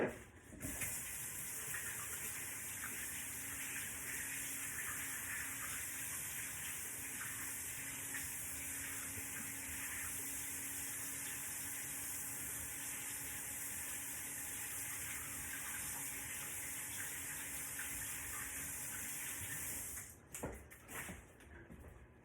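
Tap water runs steadily from a faucet for about twenty seconds as hands are washed at a sink, a close broadband gush that stops abruptly near the end, followed by a few brief clunks.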